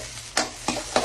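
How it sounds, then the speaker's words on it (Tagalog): Garlic, onion and ginger sauté in a hot pan, a continuous sizzle broken by three quick stirring scrapes at a steady pace, close and alone. "Tara, gisa tayo ng bawang sibuyas sa luya."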